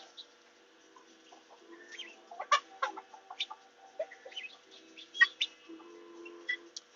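Backyard chickens cluck and murmur in short, uneven bursts, several birds fairly close in a quiet setting with no talking.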